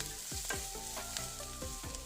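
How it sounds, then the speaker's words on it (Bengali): A mung dal mixture fries in a little oil in a pan while a spoon stirs it in quick repeated scrapes, a soft steady sizzle under regular stirring strokes, close and quiet, with no talk. "আর একটু নেড়ে টেড়ে নিচ্ছি দেখো আমি কিন্তু তেল এখানে বেশি দেইনি"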